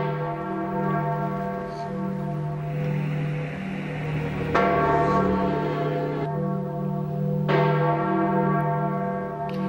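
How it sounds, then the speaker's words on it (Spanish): Church bells toll steadily during a crowd gathering at the death of Pope John Paul II in 2005, their ringing strokes layered over a low sustained hum, with fresh strikes sounding at intervals and no talk. "en medio del tañer de campanas"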